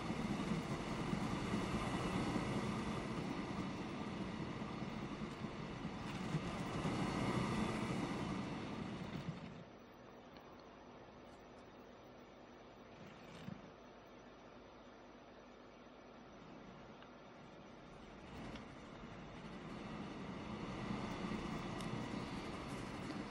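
Train running in the video game Transport Fever 2, a steady rolling rumble that drops away midway and slowly builds again, with no talk.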